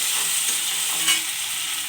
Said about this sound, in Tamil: இப்போ தக்காளி, பூண்டு இதை போட்டு இன்னும் கொஞ்சம் 2 நிமிஷம் வதக்கிக்கலாம்.